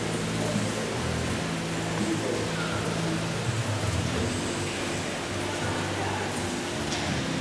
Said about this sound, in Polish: Tam jest wodospad jakiś.